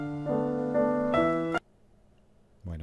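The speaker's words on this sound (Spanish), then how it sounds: "Vamos a probar grabando un piano." A recorded piano played forward, with sustained chords struck in sequence, each ringing with a clear harmonic tone before stopping abruptly into near silence, then another note begins.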